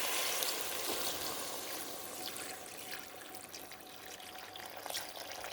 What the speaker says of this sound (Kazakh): Сосын су құямыз